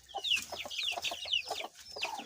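Chickens clucking around a coop where a broody hen sits on eggs, a busy run of short repeated clucks and chirps close by, with no talk.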